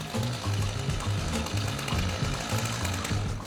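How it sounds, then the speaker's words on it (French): Chainsaw running steadily during firefighter training in a station courtyard, a loud continuous buzzing engine drone with slight rhythmic pulsing, close by and without pause. "Et dans la cour, c'est initiation à la tronçonneuse."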